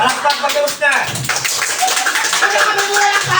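A group claps together during a garter party game, the clapping lively and dense, with voices talking and calling out over it throughout.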